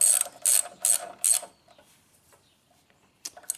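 Four quick ratchet bursts clatter close by as bolts are tightened on the brake caliper of a Kawasaki Vulcan 900 motorcycle, then fall quiet apart from faint handling noises and one last short click.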